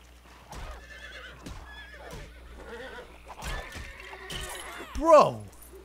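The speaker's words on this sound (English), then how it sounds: "He just killed my horse!" A horse in the video game Lego Worlds neighs in a loud, shrill whinny near the end, after scattered clip-clop hoofbeats and other game sounds, with someone talking throughout.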